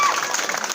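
An audience claps in welcome at a Nuakhai festival stage event, a brief steady wash of dense applause heard on its own.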